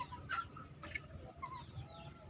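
Free-roaming farm chickens cluck and call in scattered, irregular bursts, sounding faint and somewhat distant against a low outdoor background.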